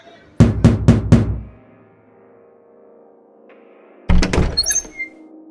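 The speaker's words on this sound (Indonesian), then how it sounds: "Tak lama kemudian terdengar suara yang mengetuk pintu." Knocking on a door as a dramatic sound effect: a quick series of four heavy wooden thumps, a pause, then another cluster of firm knocks, loud and close.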